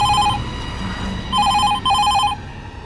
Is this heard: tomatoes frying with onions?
no